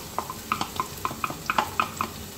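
Garlic tossed into a non-stick pan with chopped ginger for mutton curry and stirred, giving a string of light scrapes and taps in a steady, unhurried rhythm, close by and without talk.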